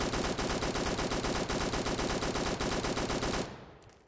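A video game weapon fires on full auto, a loud, tightly spaced burst of close gunshots running for about three and a half seconds, then stopping abruptly with a short fading tail.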